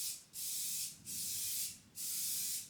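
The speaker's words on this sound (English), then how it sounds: "Spray the accelerant on the other side here." Three short hissing bursts of aerosol CA glue accelerant sprayed onto a wooden crosscut sled, each lasting under a second with brief pauses between, close and fairly quiet with no talking.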